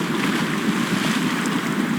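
Broad, rushing wash of water and engine noise as a truck drives through a shallow water crossing over a rock bed in SnowRunner, steady and close throughout.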